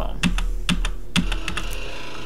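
Fingers tap on a computer keyboard, several crisp, close keystrokes in an uneven rhythm over a faint steady hum, with no voice.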